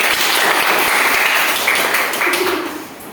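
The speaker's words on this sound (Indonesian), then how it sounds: "tepuk tangan untuk kelompok 1" A classroom of students claps for group 1, a brief burst of dense, fairly loud applause that fades toward the end, with some faint voices underneath.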